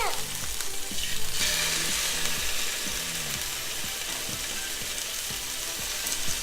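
Ravioli frying in hot oil, a dense, continuous crackling sizzle with rapid popping throughout, loud and close, with faint low background voices.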